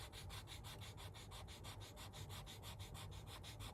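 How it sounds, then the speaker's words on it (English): Leather wallet pieces are sanded with quick, rhythmic back-and-forth rubbing strokes, a faint but steady scratchy pulse repeating evenly throughout with no speech. "We get the top sanded."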